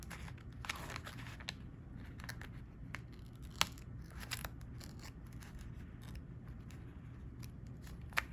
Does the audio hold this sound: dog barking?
no